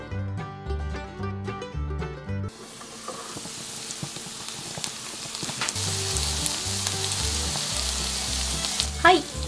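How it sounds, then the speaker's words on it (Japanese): Steady sizzling of chicken breast and nagaimo pan-frying under a lid, with music playing over it and a brief clink near the end. "2分半蒸し焼きします。"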